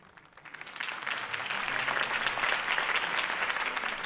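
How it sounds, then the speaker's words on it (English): Crowd applause following Harvey Dent's campaign speech in the Batman Telltale video game, swelling quickly from a few claps into steady, sustained clapping from a large audience. "could have heard that applause"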